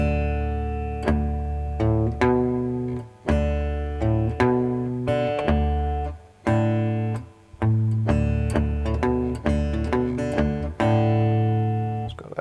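Cigar box guitar played in a slide blues style, a close, solo run of plucked notes and short chordal phrases in a loose, rhythmic pattern with no talking.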